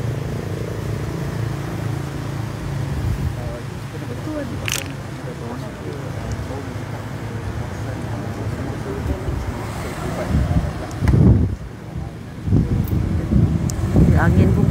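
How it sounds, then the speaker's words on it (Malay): Strong wind blows outdoors outside a hospital on a hot, sunny day. It buffets the microphone with steady low rumbling throughout and grows gustier toward the end. "Angin pun kuat, walaupun panas terik, angin kuat."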